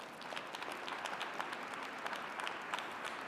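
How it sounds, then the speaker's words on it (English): Faint, steady audience applause at a live leadership talk by Chad Hymas at Melaleuca, a soft wash of many hands clapping continuously for a few seconds without voices. "Give her a round of applause"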